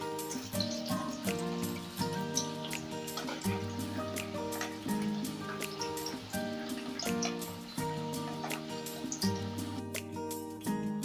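Chicken pieces frying in oil after being flipped to the other side, cooking until reddish; a close, steady popping and bubbling sizzle with irregular crisp spatters carries on without pause and without voices.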